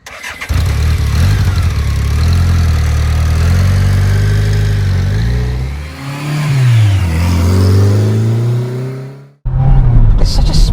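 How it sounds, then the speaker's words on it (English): A small old family car's engine runs steadily, its low hum dipping and swelling as revs shift slightly, loud and close, with a brief drop near the end before it carries on. "It's such a smooth little engine as well."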